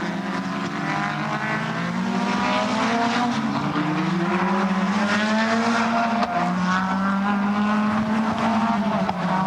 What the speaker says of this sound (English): Dick Johnson, car number 17, stretches it out going down the back straight, still leading from 0-5 Brock